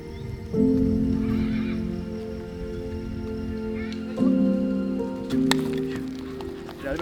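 A herd of wild horses in Spain, including foals, gives several loud drawn-out whinnies one after another, heard at moderate distance over outdoor background noise.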